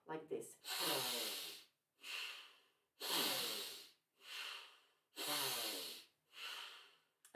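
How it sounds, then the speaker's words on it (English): Deep, forceful Tummo-style breaths into the lungs and belly, each a loud rushing inhale or exhale lasting about a second, repeating in a steady rhythm of six strong breaths with short pauses between, close to the listener. "deep breaths, forceful breaths into your lungs and belly"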